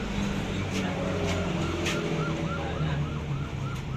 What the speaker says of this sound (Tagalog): Ayan na yung mga bombero, tumutunog na.